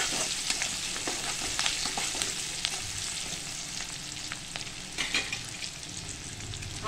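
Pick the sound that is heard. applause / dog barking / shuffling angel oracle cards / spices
spices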